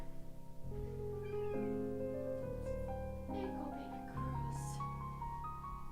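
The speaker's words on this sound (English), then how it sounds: "Cat food ASMR." A cat meows while eating cat food, a string of close, drawn-out tonal cries that rise and fall, one after another, with no talk.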